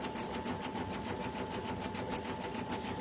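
An embroidery sewing machine stitches out a freestanding design, giving a steady, fast mechanical hum with an even rapid needle rhythm, close and continuous without talk.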